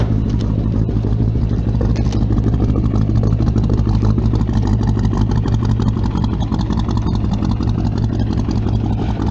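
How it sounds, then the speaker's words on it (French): A Chevrolet C10 pickup truck engine idles loudly and steadily close by, a deep rumbling exhaust note with a slight clatter, no voices. "je vais te faire écouter un peu le moteur, les échappements, ce que ça donne"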